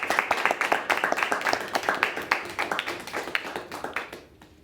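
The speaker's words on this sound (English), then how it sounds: "giving our breaking teams a round of applause for making it this far?" Audience applause for the breaking teams at a high school debate tournament; a fairly sparse room of clear, individually audible claps in a quick irregular patter, tapering off at the end.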